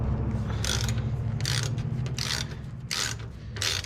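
A socket ratchet on the crusty drain bolt of a 1959 International B100 truck engine clicks in five short bursts, close and distinct over a low background hum.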